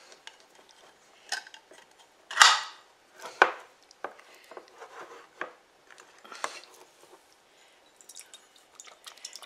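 Canned pineapple with its juice, undrained, tipped into a bowl: a series of wet plops, drips and clinks of fruit and can against the bowl, two louder splashes early on, then quieter scattered drips and taps, close and alone.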